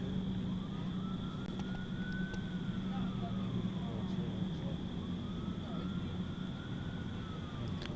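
Emergency sirens wail at an airport at night, with slow rising and falling sweeps that sound distant and steady under a constant hum, and a voice talking over them.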